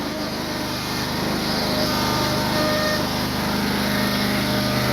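A Cub Cadet mower with a Yanmar diesel engine runs steadily nearby on a shop floor, a continuous low rumbling drone with a faint high whine on top.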